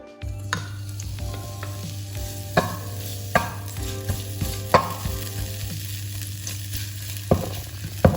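Finely grated ginger frying in olive oil crackles with a constant close sizzle, broken by regular scraping strokes of a spoon against the pan.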